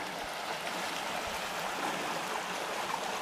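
A mountain stream on Mt. Lemmon in January flows beside a hiking trail with a steady, close rushing hiss that stays even throughout and has no voices over it.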